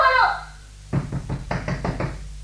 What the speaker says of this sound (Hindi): दरवाजा पीट रही है